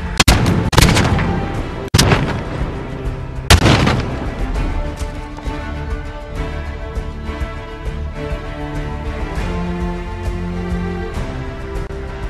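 Gunfire in the Call of Duty: Warzone video game: a few loud sharp shots and booms early on, then a dense, continuous rumble of distant battle noise with no talk.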